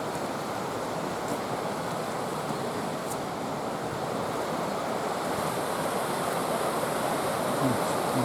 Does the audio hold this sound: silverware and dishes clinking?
no